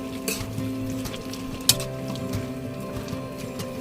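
A spoon scrapes and knocks as sayote and chicken are stirred in a pan. The pan sizzles softly, with a sharp clink in the middle, over a steady low background hum.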